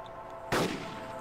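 A single sharp gunshot rings out in the survival game DayZ, one loud crack that decays quickly against a quiet background hum.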